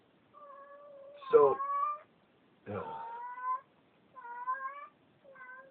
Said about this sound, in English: trap cat in heat.